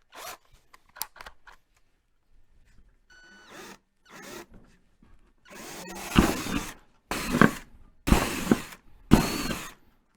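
A power drill whirs in several short bursts, with pauses between, after some earlier clicks and handling noises; the later bursts run louder and closer, drilling 5/32-inch holes in a blasting cabinet.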